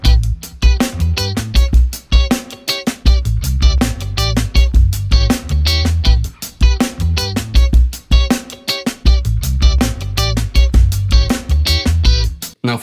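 Electric guitar playing a funk groove, busy sixteenth-note strumming with percussive muted scratches and short chord stabs, loud and steady with no voice over it.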